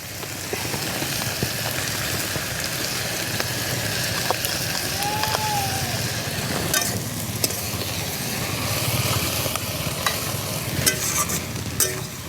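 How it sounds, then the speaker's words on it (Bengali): Shrimp and water lily stems frying in a pan are stirred, with a steady close sizzle and crackle like light rain, punctuated by faint scrapes of the spoon. "চিংড়ি মাছটা দিয়ে আবার একটু ভালো করে নেড়ে চেড়ে শাপলার গায়ে লাগিয়ে নিলাম।"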